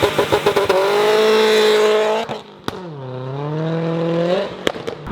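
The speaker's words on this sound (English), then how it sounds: "You gotta clutch kick it." A Subaru WRX doing a clutch-kick launch outdoors. Quick rev blips lead into a loud, sustained high rev, then sharp pops, a dip and a second climbing rev, with a faint echo.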